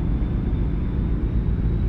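Heavy truck engine with a big turbo in American Truck Simulator, a loud sustained low rumble with a steady roaring whoosh, no voices.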